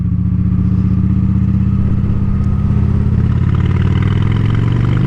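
A motorcycle engine runs loud and close for the whole stretch, a steady mid-pitched drone whose pitch rises near the end as the rider works the clutch and shifts up through the gears.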